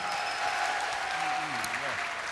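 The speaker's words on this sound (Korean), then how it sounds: "큰 박수로 환영하십시다" A church congregation applauds in welcome of a guest singer, soft, even clapping from a large room heard at a distance, with a voice talking over it partway through.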